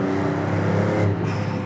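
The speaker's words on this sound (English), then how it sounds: "Really nice boosty soundtrack, much boostier than how this engine sounds in the Giulia Quadrifoglio." The boosted engine of an Alfa Romeo 33 Stradale sports car revs with a buzzing tone that holds steady and then eases off near the end. It is heard close and moderately loud with no speech.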